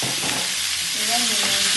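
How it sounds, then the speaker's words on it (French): Meat sizzling and frying after being dropped into hot oil in a pan, a steady loud crackle running throughout with a faint stirring scrape near the end. "Je vais rajouter ma viande dans l'huile."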